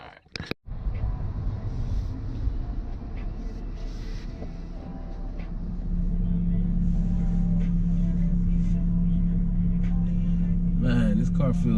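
Steady engine drone and road rumble from a small car cruising on the highway, heard from inside the cabin, with a brief jolt at the start and the engine note rising and holding a steady hum in the second half.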